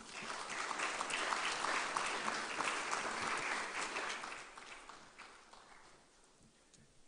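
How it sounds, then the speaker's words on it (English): An audience claps steadily and fairly loud for several seconds, then the applause thins and fades toward the end. "Another round of applause for her."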